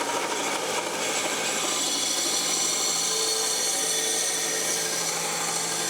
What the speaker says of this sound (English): This is called a belt sander. The belt just goes around and around like that